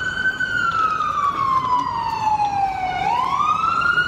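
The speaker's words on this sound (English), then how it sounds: "that was a pretty loud ambulance" A loud ambulance siren wails along a Vancouver street, its tone sliding steadily downward as it passes close by and then rising again, over a constant wash of city traffic.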